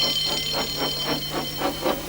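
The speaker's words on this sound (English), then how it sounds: "Soon came the alarm." An alarm bell rings steadily and alone in a children's railway story, a continuous metallic ringing with a regular pulsing rhythm throughout.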